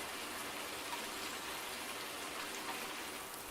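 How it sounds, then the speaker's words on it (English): Rain pours in Farming Simulator 19 on the Flint Hills map, a dense, even hiss of falling drops that holds steady throughout. "I'm actually getting kind of concerned with how much it's raining on this map."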